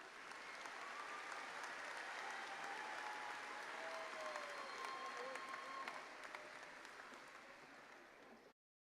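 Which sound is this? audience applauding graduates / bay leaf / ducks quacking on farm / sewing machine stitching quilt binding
audience applauding graduates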